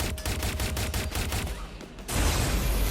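Rapid gunfire from the Watch Dogs Legion video game, a string of evenly spaced shots rattling off for about two seconds before a louder, denser burst of noise takes over.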